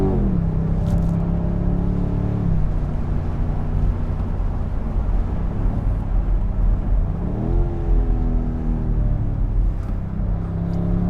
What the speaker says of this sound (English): As soon as you go into sport mode, the engine noise becomes a little raspier. You can hear the exhaust a little bit more.